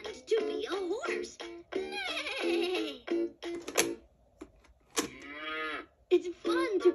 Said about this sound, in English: It's fun to pretend to be a cow.